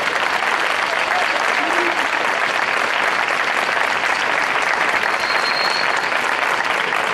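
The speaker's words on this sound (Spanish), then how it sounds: "un fuerte aplauso para la Asociación Lola Torres" Sustained, dense audience applause at a folk music and dance festival honouring a folk dance association, loud and continuous clapping filling the whole stretch without a break.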